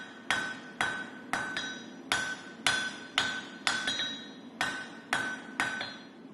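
Hammer forging the tapers of a tactical Bowie knife blade on a loose, rocking anvil, a steady series of about ten sharp ringing metallic strikes at an even rhythm, each with a short ringing decay.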